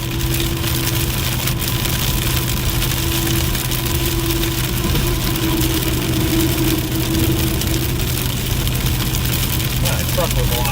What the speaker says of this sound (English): That truck was loud.